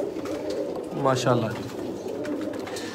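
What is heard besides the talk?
Sialkoti pigeons cooing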